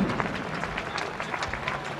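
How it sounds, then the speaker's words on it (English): A crowd claps for a drift team at the Formula Drift Final Four in 2015, a short burst of scattered applause and cheering with background noise. "Round of applause for those guys working hard"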